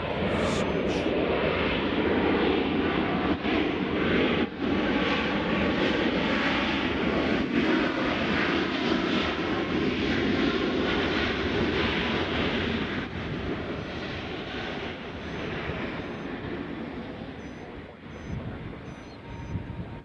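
A WestJet airliner at Nashville International Airport gives a loud, steady jet roar that holds for about twenty seconds, then eases slightly toward the end amid wind noise.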